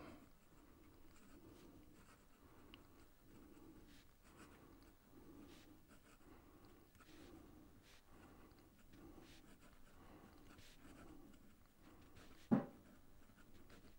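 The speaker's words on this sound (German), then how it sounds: "Versuchen wir mal verkehrt herum zu schreiben. Da kratzt's." A Waterman Charleston fountain pen with an EF nib, writing upside down on paper, makes a faint, steady scratchy rasp in soft repeated strokes, with one sharp louder scrape near the end.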